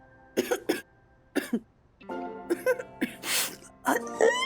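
A person coughs repeatedly at close range in rough, harsh bursts, some strained and throaty, broken by short pauses and breaths.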